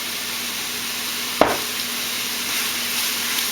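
Greens sautéing in olive oil in a wok give off a steady, close sizzle throughout, with one sharp clack near the start as the pan or a utensil is knocked.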